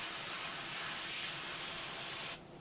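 An airbrush sprays paint in a steady, close hiss with a slightly rough, spitting texture as the needle clears, then stops abruptly near the end.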